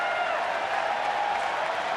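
A baseball stadium crowd at a Mets at Pirates game gives a broad, exaggerated cheer after a strike. The dense, steady roar of many voices holds at an even level with no clear peaks.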